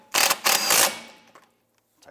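A power tool drives home a rear shock absorber bolt on a 2011-2019 Ford Fiesta: a loud, close burst of harsh whirring and rattling lasting under a second, then quickly fading to quiet.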